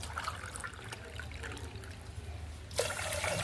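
Two and a half glasses of water poured from a glass onto one glass of washed rice, a steady light trickle and splash that turns louder and fuller near the end.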